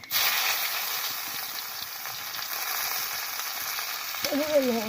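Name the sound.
cumin seeds and bay leaves frying in hot oil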